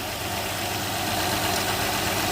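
A 2007 Honda Odyssey with the 3.5 engine, just repaired for valve-cover gaskets leaking oil onto the exhaust, idles steadily with a dense, constant mechanical rumble close by.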